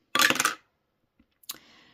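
Eight-sided dice rolled and clattering onto a surface: a sharp burst of rattling impacts for about half a second, then a faint tap and a second shorter clatter that rings out and settles.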